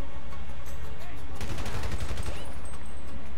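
Rapid video-game gunfire erupts in a zombie shooter, a dense burst of loud automatic shots beginning midway and rattling for about two seconds over steady low background noise.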